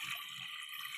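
Water pours into a pressure cooker holding lentils with turmeric and chilli powder, a faint, steady rushing hiss with no voices.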